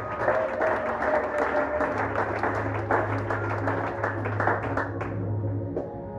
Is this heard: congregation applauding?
yes